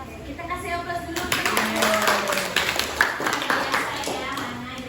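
Classroom applause for a student presentation, a dense stretch of clapping from many hands that swells after the first second and holds steady, with voices mixed in.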